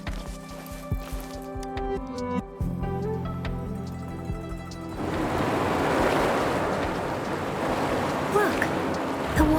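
Water drains away in the fantasy game Wuthering Waves: layered musical tones give way to a loud, rushing wash of surging water that swells and holds steady, like surf pouring out.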